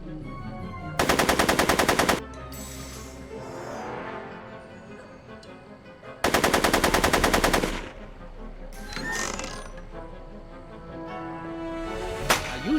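Gunfire in Back to the Future: The Game, Episode 2: Get Tannen, with two long, loud bursts of rapid automatic shots about five seconds apart, followed by quieter scattered bangs and a sharp crack near the end.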